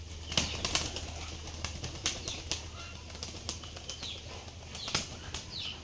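Giribaz pigeons at a pigeon farm beating their wings in a string of sharp, papery flaps and flurries, fairly close, over a low steady background hum.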